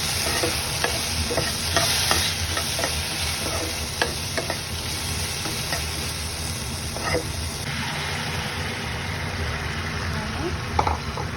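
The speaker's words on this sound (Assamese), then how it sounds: "ধনিয়া গুড়ি জিৰা গুড়ি অকণমান ফ্ৰাই কৰি" Coriander and cumin powder fry in a pan while being stirred, producing a steady close sizzle broken by small scraping clicks of the utensil.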